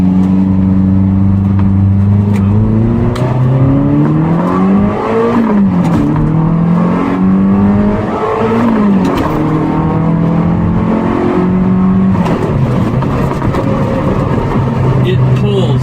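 A Lotus Esprit V8 twin turbo drives and accelerates, the engine droning loud and steady as the revs climb and drop through repeated gear changes, heard from inside the car.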